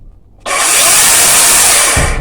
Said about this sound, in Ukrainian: Отак працює. Супер. Чудова пилка.